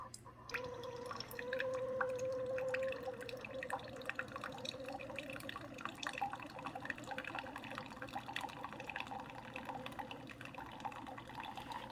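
A Keurig K-Supreme coffee maker brews quietly, with a thin stream of coffee pouring and trickling steadily into a cup at close range, without much splashing.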